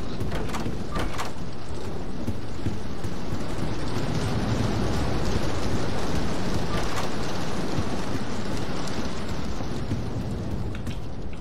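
Hail or rain falling in a Roblox game, a dense, continuous patter of loud noise with a few sharper ticks, steady throughout.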